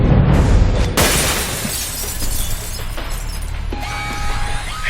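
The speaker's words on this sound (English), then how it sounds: "But you might be able to find a way to break the glass." Glass smashes in the video game Alpha Protocol, a loud shattering burst followed by a second crash and tinkling debris, then lingering hum and faint electronic tones.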